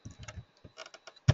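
Short bursts of computer keyboard typing as a condition expression is entered in SSIS, a few soft clustered keystrokes ending in one sharper, louder tap, close and alone.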